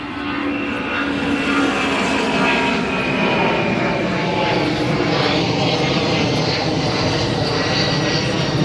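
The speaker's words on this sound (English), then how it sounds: "Airplane going by." A propeller airplane passes overhead, its steady droning engine roar holding loud and continuous throughout with no pause.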